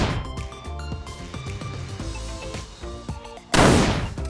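A gunshot sound effect: one loud, sharp blast cuts in over background music near the end and rings out briefly.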